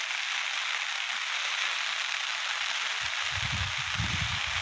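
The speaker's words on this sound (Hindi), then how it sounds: "देखिए गाइस कितना तेज बारिश चल रहा है, मौसम कितना खराब हो रहा है" Heavy rain in a village pours down in a dense, constant hiss, with a few louder nearby spatters toward the end and no voices.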